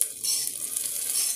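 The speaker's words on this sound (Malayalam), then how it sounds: "ഈ കടു വറുത്തിട്ടൊക്കെ ഒന്ന് ഇളക്കി യോജിപ്പിക്കാം" Mustard seed tempering sizzles loudly as it is stirred into kurukku kalan curry, a continuous frying hiss with light scraping of the stirring that runs for just over a second, close by and with no talk.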